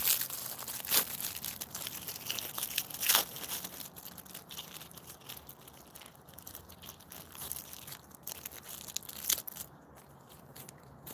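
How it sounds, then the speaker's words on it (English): Electrical tape is pulled off the roll and torn in quiet, close crinkling and crackling bursts, with a few sharper rips standing out against a soft background. "Electrical tape, easy."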